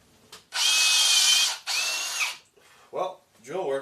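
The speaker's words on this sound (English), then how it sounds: "Well, drill works." A power drill whirs loudly in two sustained bursts, briefly pausing between them, followed by short bits of talk and rustling up close.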